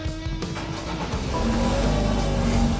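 A BMW F30 engine runs with a steady low rumble and broadband hum that swells slightly louder partway through, heard close by without speech.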